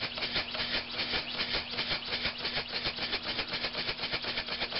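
A model steam engine runs slowly on air, giving a steady rhythmic chuffing pulse with a faint constant hum beneath, close and moderately quiet with no voices.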